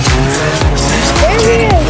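Race car revving hard in a wild backyard race, with sharp tire squeals sweeping up and down over a loud, continuous engine roar and low thumps; no one speaks.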